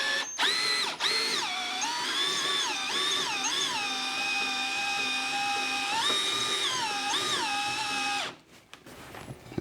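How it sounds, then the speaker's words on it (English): Cordless drill running on its low setting to raise buckets while slip casting pots, a loud steady motor whine that dips and rises in pitch several times under load, then cuts off near the end; no talking. "My drill has a high and a low setting, and you want the low setting."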